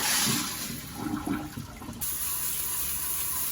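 Water from rice soaked overnight for brewing doburoku, a rustic rice wine, draining away in a steady, close rushing flow that holds an even level from start to finish, with no talking.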